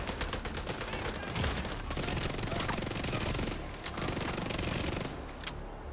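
Vector SMG fire in the video game Division 2 rattles off in rapid continuous bursts, dense and fairly close, with brief gaps and a sharper final crack near the end.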